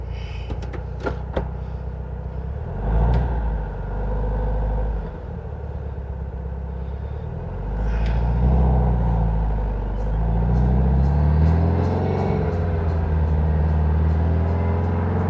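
A Porsche 356 Speedster VW kit car driving, its engine rumbling from inside the cabin, with revs rising and dropping as gears shift, ending in a steadier, louder drone.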